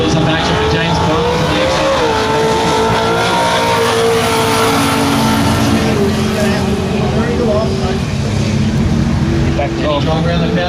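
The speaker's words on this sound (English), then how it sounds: "Wheels up action for James Barnes." Drag race car in a Super Street class round at the Winter Nationals, its engine roaring loud and steady throughout with tire noise, over a race commentator's voice and crowd ambience.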